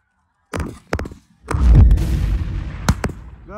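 Shotgun volley at snow geese during a goose hunt, a couple of loud close blasts followed by a rapid burst of overlapping shots and a final report, ringing out in open air.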